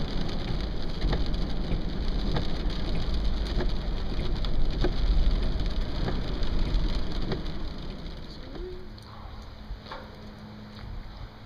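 Steady rain falls on a rainy Sunday, a dense, continuous wash of drops spattering on surfaces that softens slightly toward the end, with no talking.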